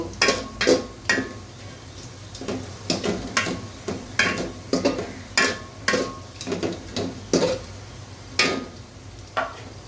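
Ginger garlic paste goes into lightly browned onions for a beef curry, with a soft frying sizzle beneath. Repeated close spatula scrapes and knocks against the pan come in uneven bursts throughout.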